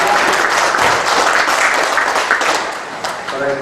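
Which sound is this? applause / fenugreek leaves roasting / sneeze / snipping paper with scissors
applause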